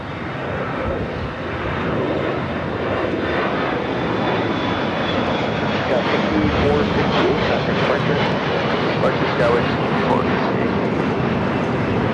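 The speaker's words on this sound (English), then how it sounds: "This American 777 coming in from London Heathrow." An American Airlines Boeing 777 jet arriving at LAX from London Heathrow produces a sustained, broad engine roar heard at a distance.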